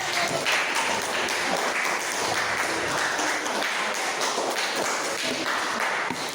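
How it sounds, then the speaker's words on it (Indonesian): A classroom full of people clapping steadily and continuously, dense and fairly loud throughout, with no voices standing out. "Tepuk tangan dulu."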